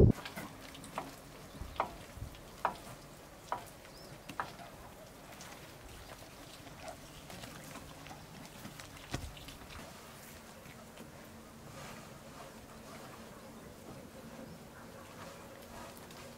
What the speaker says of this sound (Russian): Дождь пришел к нам раньше времени и без грозы.